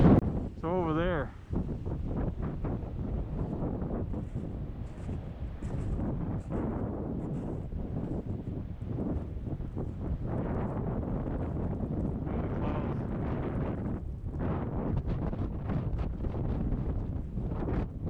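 Strong wind from an Iowa blizzard roars and buffets the microphone, driving snow through in a steady rush with louder gusts, while a person talks over it.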